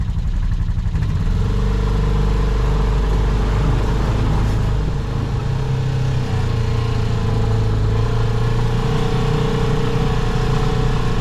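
Turbocharged Polaris-style Pioneer 500 side-by-side engine fitted with a one-step colder spark plug, idling steadily and close up with a constant mechanical drone and light clatter throughout, no talking.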